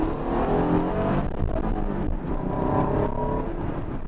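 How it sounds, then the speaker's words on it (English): A 1995 Acura NSX-T engine revs and pulls hard at opened throttle, its throaty roar rising and shifting in pitch as it accelerates, loud and close with no talking. "we're open up throttle a little bit right here"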